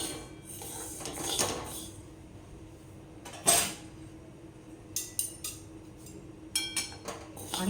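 Sabudana (tapioca pearls) stirred in a hot kadhai over medium heat, with a spoon scraping and rustling against the pan, punctuated by sharper metallic clinks and knocks.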